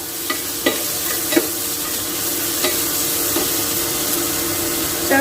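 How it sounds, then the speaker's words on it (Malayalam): Finely chopped onion frying in a pan of ground garlic paste for a curry, a steady loud sizzle broken by several sharp scraping stirs, heard alone without talk. "ഇതിലേക്ക് നമുക്ക് സവാള അരിയിട്ട് കൊടുക്കാം"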